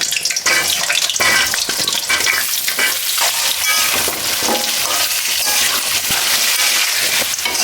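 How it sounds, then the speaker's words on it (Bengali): Cut potatoes fry in hot oil for beef tehari with a loud, dense, continuous sizzle and crackle, and faint stirring noises turn up now and then. "এই তেলে আমি তেহারিতে যে আলু দিব সেই আলুগুলো ভেজে নিব।"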